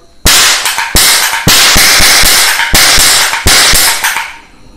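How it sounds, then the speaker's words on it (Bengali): A toy cap gun loaded with a reel of caps fires loud, sharp cracks, close and alone, in irregular bursts of single and rapid shots with brief ringing decay between. "এরকম একটা নকল বন্দুক কিনে তাতে ক্যাপ রিল ভরে পড়ে অবশ্যই আমার মতন ক্যাপ ফটকা ভরে দিতে পারো"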